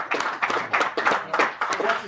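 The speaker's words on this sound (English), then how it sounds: "We've got to give him a round of applause" Clapping from an audience at a city police department New Year event, a short burst of moderately loud hand claps with uneven rhythm, close and lively, lasting about two seconds.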